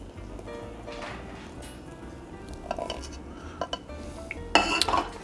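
Cutlery rattles and clinks while a spoon is fetched from a kitchen drawer, close and fairly loud, with a busier burst of metal clatter near the end; no talking.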